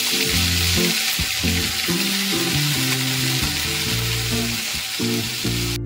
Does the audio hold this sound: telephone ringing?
no